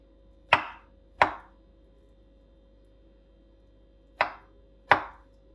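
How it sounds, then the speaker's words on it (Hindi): A knife cuts through peeled kiwi fruit on a board, giving four crisp, close chops in two pairs separated by a pause, over a quiet steady hum. "ये कीवी को भी ऐसे ही काट लेंगे"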